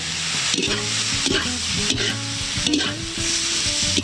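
Sinantulan, a santol dish, sizzling loudly in a hot pan while being stirred, with steady frying crackle and repeated scraping strokes throughout, close and alone.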